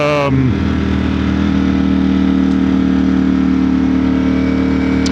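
A Ducati Streetfighter V4S motorcycle engine runs close by, a strong steady idle with a deep, even drone after a brief drop in revs at the start.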